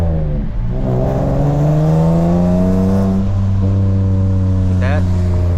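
A BMW E46 drift car with a raspy, loud exhaust drones and climbs through revs close by on a wet street, its harsh tone holding steady with brief shifts in pitch.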